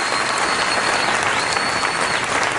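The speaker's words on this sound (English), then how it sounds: "round of applause for the candidates" A studio audience applauds the candidates at the close of a televised debate broadcast, thick sustained clapping at full volume throughout with no gaps or speech over it.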